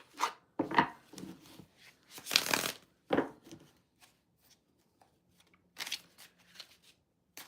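Playing cards shuffled by hand in several crisp riffling bursts, close and fairly loud, separated by quiet pauses with soft handling rustles.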